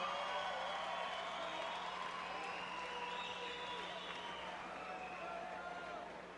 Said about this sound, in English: a round of applause for both women